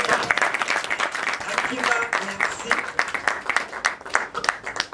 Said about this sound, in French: On applaudit pour vous.